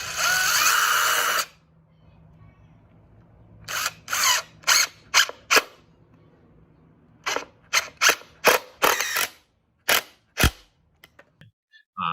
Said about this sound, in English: I use 2 screws, one top, one bottom